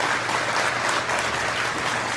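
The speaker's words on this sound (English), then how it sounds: "I listened to the applause after" Dense, sustained applause from an audience fills the room after a political speech, a steady wash of many hands clapping at even loudness throughout.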